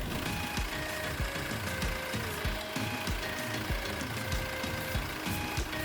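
A car engine idles steadily after an injector seal repair, with a low, even rhythmic chug and faint mechanical whine, close and continuous with no hissing or other sounds.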